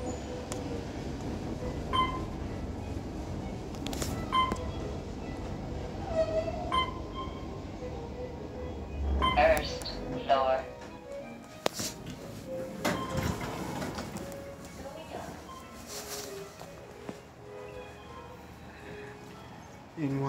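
An Otis series 1 traction elevator at a bank in Portland, Oregon runs with a low mechanical hum, door slides and clunks, and scattered clicks and thumps over about twenty seconds, with people talking now and then.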